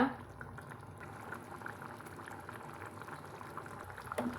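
Mushroom gravy simmering in a pan, a continuous soft bubbling and burbling at close range, steady and fairly quiet, with no voices over it.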